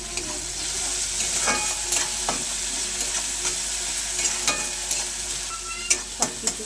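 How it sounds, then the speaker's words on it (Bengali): Spices and cumin powder with prawns sizzle steadily in oil in a pan for a Bengali curry leaf mash. A spoon stirs with intermittent scraping and tapping, and several sharp knocks come near the end, with no talking. "সব কিছু একটু ভালো করে নাড়াচাড়া করে নেব।"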